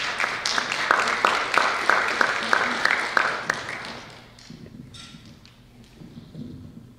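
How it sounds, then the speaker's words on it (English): Applause at a board of education meeting, a crowd clapping steadily and fairly loudly for about four seconds, then fading into scattered claps and room murmur. "Let's give him a round of applause"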